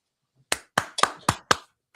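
Five sharp hand claps ring out in quick, slightly uneven succession, close and crisp against an otherwise silent background.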